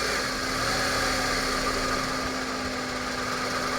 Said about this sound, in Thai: เดินเบาครับ